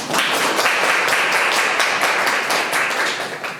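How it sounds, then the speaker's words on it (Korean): An audience at an academic geography conference at Ewha Womans University claps for the supporting professors, a loud, even burst of hand clapping sustained without talk. "박수 한번 좀 부탁드립니다"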